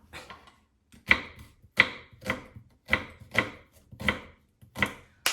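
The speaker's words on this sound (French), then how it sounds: "j'espère que vous n'avez pas trop pleuré en coupant les oignons" A knife chops onions on a cutting board in about ten sharp, separate thuds at a slow, even pace, close and clear with nothing else heard.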